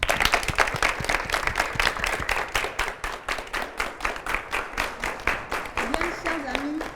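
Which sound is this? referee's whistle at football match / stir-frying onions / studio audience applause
studio audience applause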